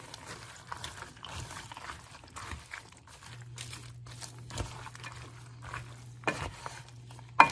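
A soup mixture with ham is stirred in a pot, giving quiet, intermittent scraping and crinkly stirring sounds over a low steady hum.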